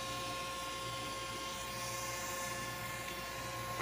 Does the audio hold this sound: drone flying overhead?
yes